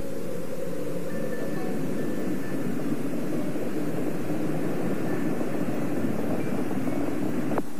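Space Shuttle Challenger's engines roar at launch in 1986, a steady, dense, distant rumble holding at constant loudness with no break.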